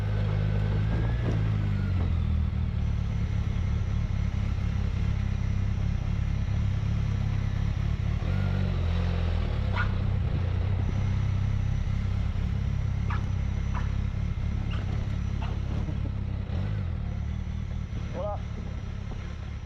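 A motorcycle rides through the Mexican city of Tecate with a steady, low engine drone and road rumble, wind buffeting throughout, the transmission about to fail; a few faint higher tones and traffic noises pass in the background.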